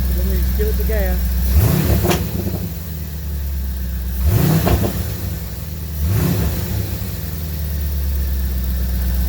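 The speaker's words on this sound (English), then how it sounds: "then we give it the gas." A 1985 Chevrolet Corvette C4 with a fuel problem idles close by and is blipped three times, each short rev rising sharply and then falling back to the low idle rumble at roughly even intervals.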